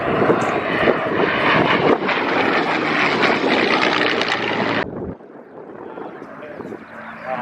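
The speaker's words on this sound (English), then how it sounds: "it could be anything, but it is the legendary Spitfire" A Supermarine Spitfire in Aldia markings flies at the Wings Over Wairarapa airshow, November 2023, with a loud, continuous propeller-engine roar that suddenly drops away after about five seconds to a fainter rumble.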